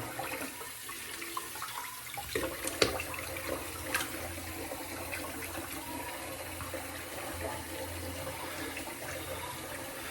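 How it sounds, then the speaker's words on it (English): Hot water runs steadily from a tap into a sink during a straight razor shave, a soft continuous hiss and splash with a few brief knocks and clinks, faint and alone. "I'm going to run a little more hot water."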